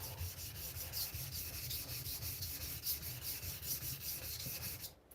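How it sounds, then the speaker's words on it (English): A custom gyuto knife is sharpened on an Apex Ultra guided system: continuous, rhythmic abrasive rubbing of steel on stone, close and fairly even, ending abruptly near the end. "Knife sharpening Norway."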